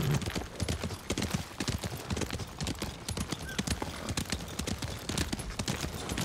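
Horse hooves clip-clop steadily on the ground in the video game Ghost of Tsushima on PS5, a fast, even gallop rhythm that carries throughout, with a faint whinny-like tone mixed in.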